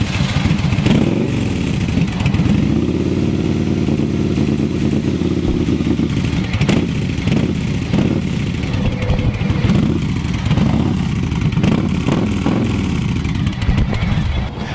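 A Victory Vegas motorcycle fitted with Stage 1 exhaust revs loud and close, with a sustained low engine roar that swells and eases across several throttle blips, and no talk over it.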